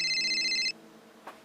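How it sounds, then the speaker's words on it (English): A single electronic telephone ring, bright and tonal, sounding briefly and then cutting off into near silence with a faint click afterward. "I think that's the phone ringing."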